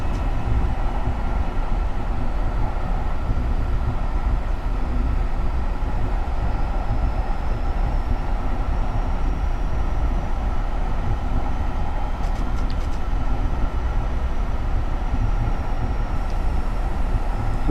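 A Metro-North Comet V commuter train runs in Train Simulator 2019 on the Pascack Valley Line, a steady rumbling rail drone with a few faint clicks, heard alone at constant loudness.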